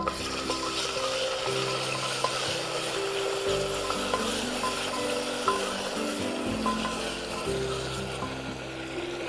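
Ginger garlic paste sizzles with browned onions in a pan for dalcha gosht, a continuous close frying hiss with light stirring, and low background tones underneath.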